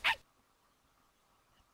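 A single short, sharp dog bark from the Professor Layton video game sounds at the very start, then gives way to a faint, quiet background tone.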